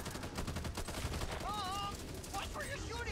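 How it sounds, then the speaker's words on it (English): Gunfire rattles in Back 4 Blood co-op play, dense bursts running throughout under shouting players, with whistling tonal game effects midway. "Watch where you're shooting!"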